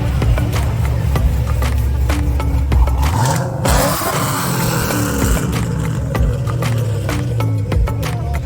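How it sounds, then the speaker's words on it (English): A car with a very loud exhaust revs hard at an exhaust competition during the 2023 Street Machine Nationals, a close, roaring, sustained blare that surges and dips throughout. "So we got an exhaust competition going on here."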